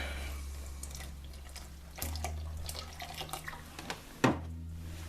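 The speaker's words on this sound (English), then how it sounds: "And we're gonna add our milk." Milk pours into a pot as Punjabi kheer (rice pudding) is cooked: a steady, fairly quiet liquid splash over a low hum, ending with a brief clatter.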